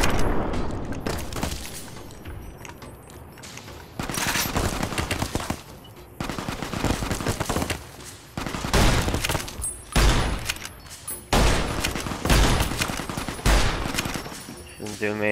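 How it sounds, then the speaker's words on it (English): Machine gun fire in Fallout New Vegas rattles out in repeated loud bursts with short pauses between volleys, and some booming impacts mixed in. "Some machine gun. Doesn't do much from far away."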